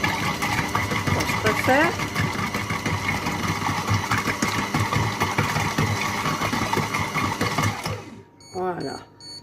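A Compact Cook Pro food processor chops at speed 4, a continuous motor whir running for about eight seconds before cutting off abruptly, with someone speaking French over it and again after it stops.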